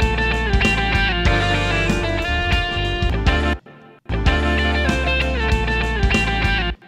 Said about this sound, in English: what I'm playing here are octaves